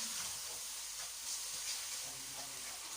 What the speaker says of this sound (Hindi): अब इसके साथ ही हम लहसुन अदरक और सब्ज मिर्च का पेस्ट डाल के इसको 1 मिनट तक भूनते हैं।